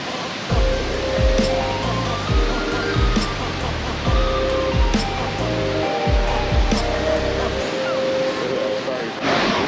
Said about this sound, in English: Now we're getting to the bridge with a waterfall